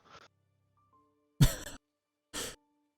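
Two short, sharp coughs a second apart, close by, with a faint breathy sound just before them.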